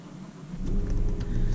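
A 13-year-old BMW E60 M5 with its V10 fires up after brief cranking, the low engine rumble rising and settling into a steady, smooth idle, close and loud, with no talking.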